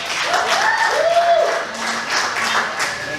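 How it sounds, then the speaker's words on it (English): Comedy show audience at the Maltese applauding, a dense wash of clapping with scattered whoops and cheering voices mixed in. "I want to hear a round of applause for the Maltese."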